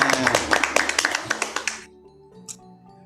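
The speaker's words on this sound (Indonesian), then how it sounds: "Tepuk tangan" A group at an Indonesian school gathering claps in quick rhythmic unison, a run of bright, fast claps that stops abruptly after a couple of seconds and leaves a quiet tonal hum.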